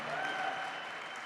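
Steady, sustained applause from a conference audience at the Bitcoin 2025 fireside chat, a dense wash of clapping filling the hall at moderate volume with faint voices mixed in.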